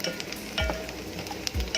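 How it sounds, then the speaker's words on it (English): Onions frying in a pan are stirred and turned, giving a continuous soft sizzle with a couple of low scraping bumps from the spoon. "So you have to keep turning the onions."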